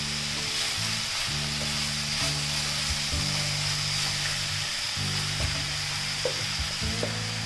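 Chop suey crackles and sizzles steadily in a hot pan as tomato ketchup and chili sauces go in, with repeated knocks and scrapes of stirring breaking through the frying hiss.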